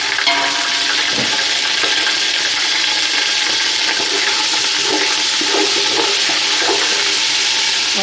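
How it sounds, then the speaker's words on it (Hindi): Fresh ginger drops into sizzling garam masala in hot oil, giving a loud, steady frying hiss with faint crackles and light stirring throughout. "अब इसमें मैं ये अदरक डाल रही हूँ।"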